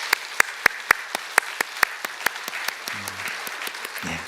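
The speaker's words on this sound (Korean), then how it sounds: "여러분 다 같이 격려의 박수를 해주시기 바랍니다" A church congregation applauds during a Sunday service after a baptism, with sharp distinct claps at first that blend into a looser patter and then fade, plus a brief low murmur near the end.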